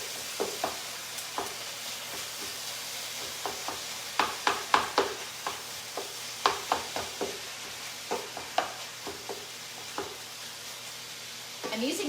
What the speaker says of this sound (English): Let me just stir my hamburger.